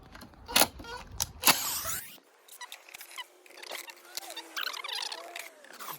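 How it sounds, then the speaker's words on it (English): Star-shaped Torx screws come out of the bodywork of a 2012 BMW F800R motorcycle: close, sharp clicks and small metallic scrapes, with a brief quieter gap and then scattered light handling rattles. "we have 2, 4, 6, 8 screws that are like this in star shape, so we need to remove them first"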